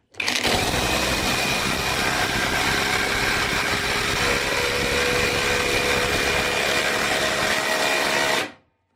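A Parkside 4Ah Smart cordless drill in performance mode drives a screw with a loud, steady motor whine held close for about eight seconds before stopping abruptly.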